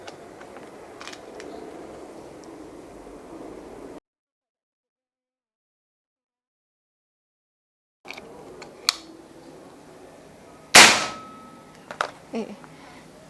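Predator OD38 PCP air rifle fired once, a sharp loud crack standing out after a silent gap, followed by a few fainter clicks and knocks.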